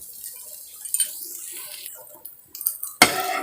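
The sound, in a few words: egg bhujiya being stirred in a pan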